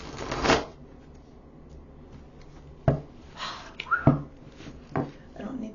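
An oracle card deck is handled and shuffled close up in a quiet room, giving a few brief riffling bursts and soft taps, with faint sniffs between them.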